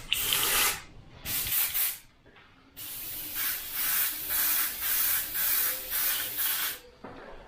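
An airbrush loaded with paint straight from the bottle and fitted with a 0.3 needle sprays in repeated hissing bursts, some short and some sustained, separated by brief pauses, close and fairly loud.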